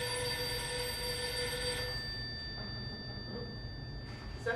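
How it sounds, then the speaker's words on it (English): An old-style telephone bell rings with a steady, bright tone for about two seconds on a staged showcase set, then stops, leaving a faint hum and room noise. "Is that your phone ringing?"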